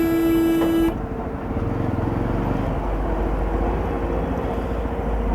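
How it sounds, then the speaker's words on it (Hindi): Heavy stop-and-go traffic in a Delhi jam, opening with a long, loud car horn blast before settling into a dense rumble of engines and motorcycles all around. "इतना हेवी ट्रैफिक है ना दिल्ली में, इतना ज़्यादा हेवी ट्रैफिक है।"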